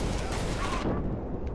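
Gunfire in Killing Floor 2, a dense, steady burst of shooting that fills the short moment and drops off sharply near the end.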